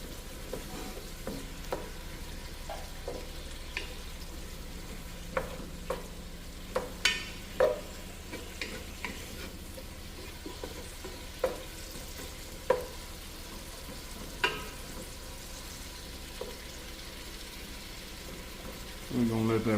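Beef tips browning in a pot make a low, steady sizzle and frying crackle, with scattered clinks and stirring knocks throughout and a louder burst of sizzling at the end.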